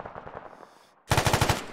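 Automatic gunfire in the Arma 3 combat game: a softer, more distant burst of rapid shots, a brief pause, then a loud, close rapid burst of about seven evenly spaced rounds.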